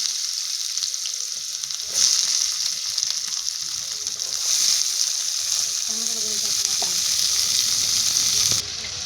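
Onions sizzle in hot oil in a pan previously used for frying eggplant, a steady loud frying hiss throughout with a few brief stirring sounds.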